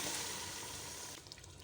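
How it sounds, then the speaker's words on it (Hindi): Water pours steadily into a pot of green chicken biryani masala, a short rushing splash that ends abruptly with a few faint drips. "उसी प्याले में मैंने और पानी लेके डाल दिया"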